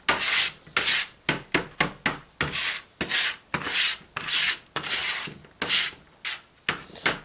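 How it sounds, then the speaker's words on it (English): Cooling candle wax is scraped off the bottom of a pan and chopped, giving a quick series of raspy scraping strokes in an uneven rhythm, close and fairly loud, with no speech. "all you need to do is scrape the bottom of the pan and chop it like this"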